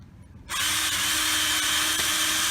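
A power drill starts abruptly and runs at a steady, loud, continuous whine while boring holes straight through a wooden panel for a DIY wheeled furniture mover.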